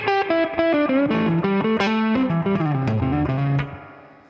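Distorted electric guitar plays a fast blues lick in the style of a slow blues lesson, a quick run of bright sustained notes ending on a held note that fades out.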